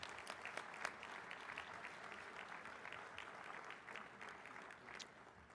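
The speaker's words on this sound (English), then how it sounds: "let's give all of our honorable mention winners in the small city category a big round of applause" Applause from the audience at a mayors' climate protection awards luncheon, honoring small-city honorable mention winners: steady, full clapping across the whole span, moderately distant and even, with no talking.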